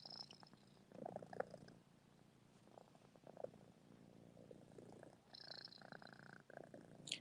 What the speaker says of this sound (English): She's such a good kitty and very loyal.